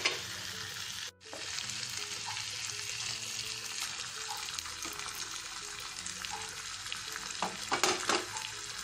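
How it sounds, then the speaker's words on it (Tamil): Quail pieces are stirred into sizzling onion, tomato and spice paste of pepper, cumin and coconut in a pan, a steady frying hiss with scraping stirs and a brief pause, then louder clattering toward the end. "இப்போ காடை ஆட் பண்ணியிருக்கேன். இப்போ நம்ம அதை நல்லா மிக்ஸ் பண்ணிக்கலாம்."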